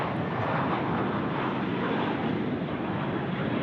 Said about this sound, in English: Jets A320 pumping it out here at runway right